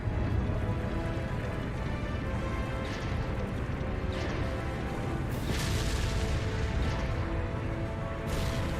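Railway cannons fire in the video game Trails of Cold Steel IV, several heavy booming blasts and crashes breaking through a dense, constant roar of battle noise.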